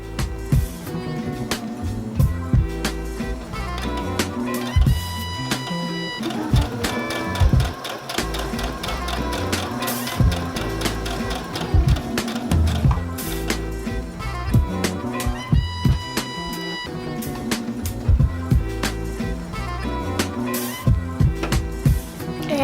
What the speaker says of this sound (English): I'm gonna get to sewing this